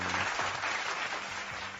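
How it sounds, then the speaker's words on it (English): Brief applause fills the moment, a dense wash of clapping that is fairly quiet and sits alone without speech, fading slightly at the end. "I gotta applaud myself for that one."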